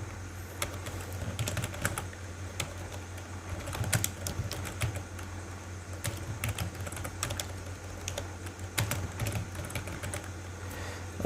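Computer keyboard typing while a visa invitation form is filled in, an irregular run of close, quiet key clicks over a steady low hum, with no talking.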